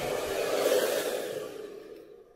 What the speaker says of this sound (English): my setting when I blow dry, when I round brush blow dry, is on the hottest setting